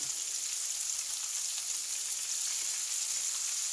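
Shrimp frying in a greasy pan, a steady close hiss and sizzle with no break and no voices.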